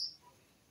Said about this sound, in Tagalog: Sinisipulan tayo ng ibon.